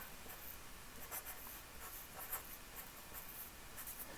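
A pen writing out a chemical structure, close scratchy strokes and taps in short uneven bursts against a quiet room.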